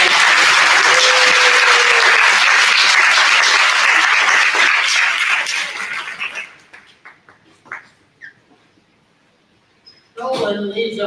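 Audience applause at a community Day of Unity and Prayer gathering, loud and dense at first, then thinning into scattered claps that fade to near silence before voices return near the end.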